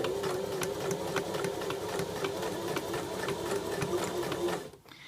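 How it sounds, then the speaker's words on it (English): A sewing machine runs a long stitch at a steady pace, its needle ticking rapidly and evenly over a mechanical hum before stopping near the end. "I'm going to do a long machine stitch heading towards the snip"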